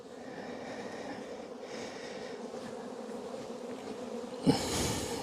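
Honey bees buzz steadily and close around an open brood frame during a winter hive inspection, a dense continuous drone that swells louder near the end.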